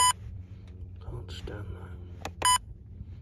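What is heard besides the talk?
beep from wildlife camera settings menu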